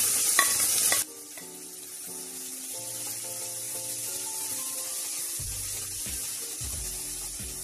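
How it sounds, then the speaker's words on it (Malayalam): Chopped green chilies and onions fry in a pan for spicy tomato rice, a steady close sizzle with regular stirring and scraping strokes, no voices over it. "ഇതിലേക്ക് നമുക്കിനി അരിഞ്ഞു വെച്ച പച്ചമുളകും സവാളയും ചേർത്ത് കൊടുക്കാം."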